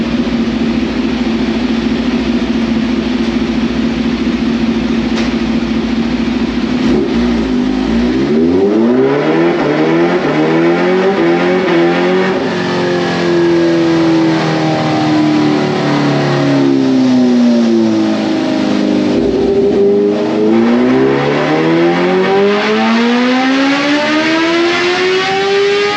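A warmed-up 2022 Kawasaki Ninja H2 with factory ECU restrictions is run on a dyno for a baseline pull, its engine climbing from idle into loud, sustained revving with rising and falling pitch sweeps through the gears, no talking.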